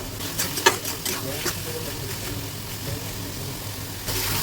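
Masala spices fry in a wok (kadai) for a fish curry with spiny spinach: a soft, continuous sizzle with occasional clinks of a stirring spatula, and a louder hiss rising near the end.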